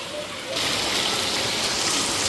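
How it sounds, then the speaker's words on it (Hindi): Very heavy rain pours down in a steady, loud, dense hiss that swells after the first half second and then holds without a break. "बहुत बहुत बहुत तेज बारिश।"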